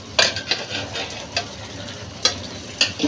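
Hilsa fish pieces go into a simmering taro and bottle gourd curry, with a soft background sizzle and several sharp clinks and scrapes of a utensil against the pot at irregular intervals.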